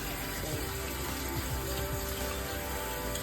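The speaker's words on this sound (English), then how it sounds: "I wash my strawberries" Tap water runs steadily over strawberries being washed in a kitchen sink, a continuous close splashing stream with a few clinks, heard alone without talking.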